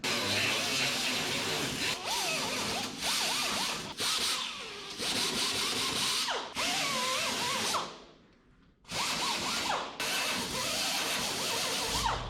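A grinder works steadily on the steel frame of a Harbor Freight welding cart, giving a loud, continuous abrasive whine broken by a few short pauses and one longer drop near the end.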